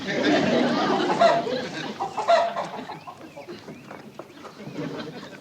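A chicken clucks in a burst of excited, overlapping calls, loud and close at first, then fades into sparser clucks and squawks.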